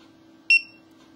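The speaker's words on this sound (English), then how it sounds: "I'm gonna lock the car up now." A single short electronic lock chirp from a Clifford car alarm, bright and quick, sounding once against a quiet background hum.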